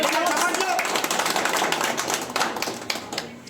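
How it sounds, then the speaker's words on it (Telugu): An audience claps at a village prize ceremony for fruit category winners, dense continuous applause from a crowd with a voice talking over it. "గట్టిగా చప్పట్లు పెట్టాలి సార్"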